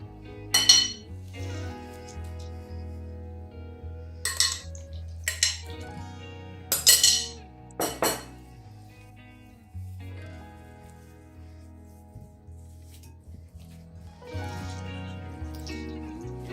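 Chicken meat being mixed with a soy sauce marinade for jerky, with wet clinks and scrapes of a utensil against a bowl coming in several short bursts, then softer stirring and squelching.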